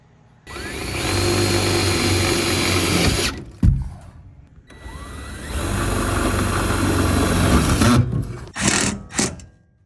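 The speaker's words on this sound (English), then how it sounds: "Now we're just gonna use some self-tappers, make some new holes." A power drill drives self-tapping screws into a ceiling while a heat coil is installed, running loudly in two long, sustained bursts with a rising spin-up, then a few short final pulses.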